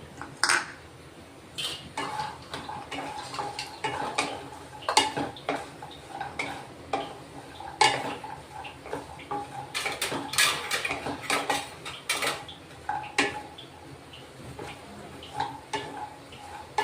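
Walnuts roast in a pan with a spoonful of ghee, as a spoon stirs and scrapes them in irregular metallic clinks and taps, some sharp and close, over a quiet background without talk.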